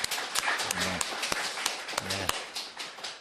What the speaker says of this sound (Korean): 환영의 박수 한번 해주십시오.